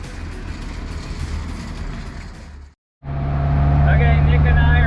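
A 413 coupe engine firing up after a brief silence and settling into a loud, steady rumbling idle, with road noise before it.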